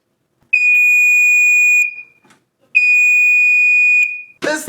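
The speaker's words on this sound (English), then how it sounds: "Now listen to the horn of the Pyrotector thing." A Pyrotector 30-77ARF5 smoke alarm sounds its horn in two long, loud, steady blasts separated by a short gap, with a burst of noise right at the end.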